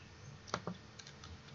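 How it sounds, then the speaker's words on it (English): A computer mouse clicks the post button while testing a React Native app against a MongoDB backend: two or three quiet, sharp clicks close by in a still room, with no voices. "Click post button"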